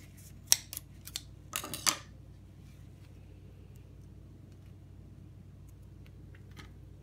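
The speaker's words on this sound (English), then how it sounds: "Go ahead and use scissors or a knife, whatever you need, to cut that wick off." A few quick snips of scissors cutting a napkin wick on a tuna-can candle, sharp clicks close by, then quiet with a low background hum.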